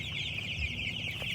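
A dense chorus of young chicks in a pen keeps up a continuous high-pitched cheeping, steady and close throughout.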